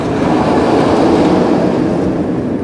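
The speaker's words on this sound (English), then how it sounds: "a fun B&M coaster" A B&M roller coaster train at Six Flags Great Adventure rumbles steadily along its track, a loud, continuous roar with rattling texture filling the whole stretch without pause.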